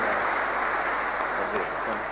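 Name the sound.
audience applause for the governor and vice governor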